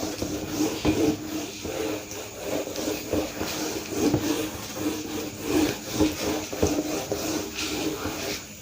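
A duster rubs out writing on a board during a maths class, with repeated scratchy rubbing strokes in a steady back-and-forth rhythm close by.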